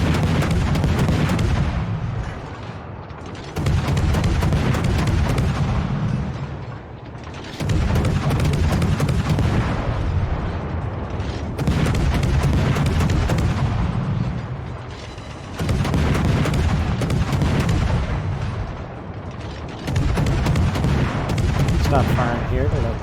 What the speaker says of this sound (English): Going to the Indianapolis and lobbing some shells in his direction.